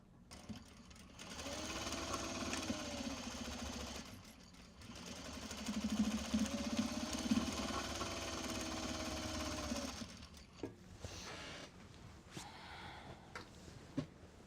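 Sewing machine stitches Japanese fabric for a small box bag in two sustained runs of steady whirring, close and fairly quiet, then stops for scattered handling clicks and small noises.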